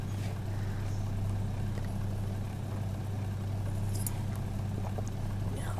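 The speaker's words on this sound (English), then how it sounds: "Love the engine sounds. Sounds phenomenal." Truck engine from an American Truck Simulator mod, a deep steady diesel drone with a strong low hum, heard continuously at moderate level with no talking.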